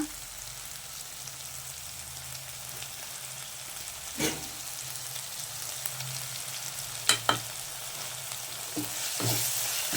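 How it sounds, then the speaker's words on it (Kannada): Egg rice masala fries in a pan with a soft, constant sizzle, broken by a few sharp utensil taps and scrapes, and no talking. "ಬೇಗ ಫ್ರೈ ಆಗ್ತಾ ಇದೆ ರುಚಿಗೆ ತಕ್ಕಷ್ಟು ಉಪ್ಪು ಹಾಕೊಳ್ಳೋಣ"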